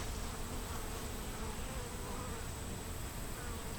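Honey bees buzz around a small nucleus hive during a hive split, a dense continuous hum close to the microphone with no voices.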